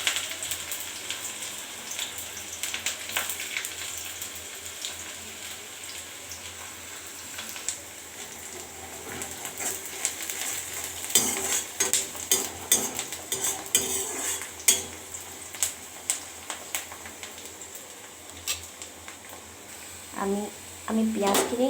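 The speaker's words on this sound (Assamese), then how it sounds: "আমি পিঁয়াজখিনি ইমানটোকে ভাজিম, বেছি আৰু নাভাজোঁ।" Chopped onions fry in hot oil in a pan, giving a steady, close broadband sizzle with occasional utensil clinks and stirring scrapes while a voice talks over it.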